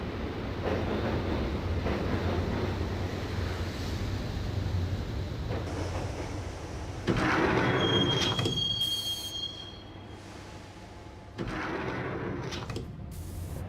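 A subway train in the Max Payne video game rides toward Roscoe Street Station, a continuous loud rumble of wheels on rails with metallic squeals and shifting surges, close and enveloping, with no talk.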